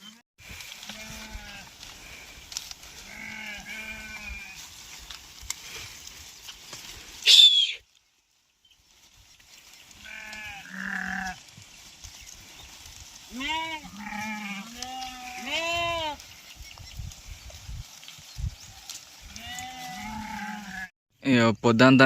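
A flock of sheep in a dry, hot village pasture bleats close by, a series of wavering calls from several animals, with people's voices mixed in between.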